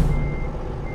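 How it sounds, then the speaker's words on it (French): Steady electronic reversing beep from a truck in American Truck Simulator, one sustained tone held loud and close throughout over a low engine rumble. "C'est toi qui fais un bruit de marche arrière?"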